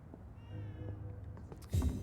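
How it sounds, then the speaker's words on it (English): A cat in the video game Vampyr meows once near the end, a short, fairly loud cry rising out of a low, quiet ambient hum with no speech. "I hear the cat meowing."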